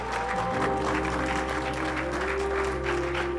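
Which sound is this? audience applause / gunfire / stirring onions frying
audience applause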